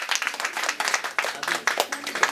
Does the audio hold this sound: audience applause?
yes